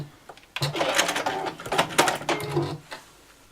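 A sewing machine stitches along the edge of a fabric cutlery pouch in short, irregular bursts of rattling, clicking needle action, fairly close and alone after a quiet start.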